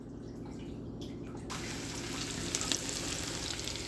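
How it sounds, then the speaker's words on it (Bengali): Fennel seeds roast in hot mustard oil, a steady close sizzle that brightens and swells partway through, with a few light stirring clinks near the end. "কিছুটা মৌরি আমি এখানে রোস্ট করে নিচ্ছি।"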